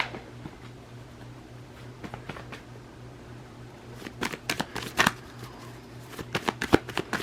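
A Moonology oracle card deck is shuffled close by, with soft riffles at first and then quicker, sharper bursts of card flicks and slaps.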